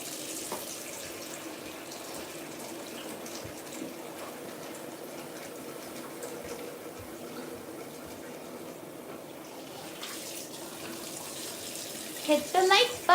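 Tap water runs steadily from a faucet into a container to refresh a pet cat's drinking water, a continuous soft hiss holding even throughout, with a few louder splashes near the end.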